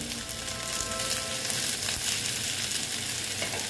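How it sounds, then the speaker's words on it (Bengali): Tomatoes cut into long strips go into a pan of frying onions for a fish curry, setting off a loud, steady hiss of sizzling oil close by with a little stirring, no voices. "এবার আমি টমেটোগুলো দিয়ে দিচ্ছি।"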